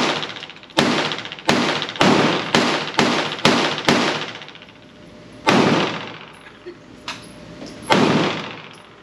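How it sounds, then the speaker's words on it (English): A Smith & Wesson 22 Victory pistol fires sharp, loud gunshots, a quick run of about seven evenly spaced shots followed by two more after a pause, with faint small handling sounds between them. "That shot went and I wasn't even ready."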